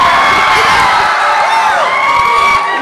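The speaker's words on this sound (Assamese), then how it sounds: "এটা ডাঙৰকৈ হাত চাপৰি" A large audience at a Bihu event in Amguri cheers loudly and continuously, a dense wash of crowd noise with whoops and shouts rising from the din throughout.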